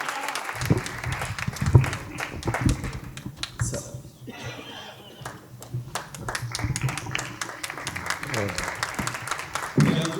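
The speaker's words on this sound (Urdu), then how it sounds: "زوردار تالیوں کے ساتھ استقبال کیجیے۔" Audience applause greets a poet taking the stage at a literary festival in Mumbai, a dense patter of clapping that swells and dips steadily throughout, with a voice briefly heard in the hall.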